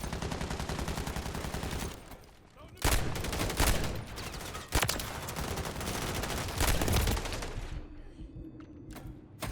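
MTZ 556 assault rifle fire in Modern Warfare 3 comes as loud, rapid automatic bursts that run almost without a break, stopping briefly around the middle and again near the end.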